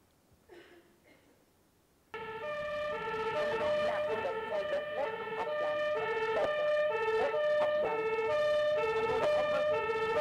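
A fire truck siren wails loud and close during an emergency response, its steady rising and falling electronic tones filling the scene after a brief quieter stretch with faint voices at the start.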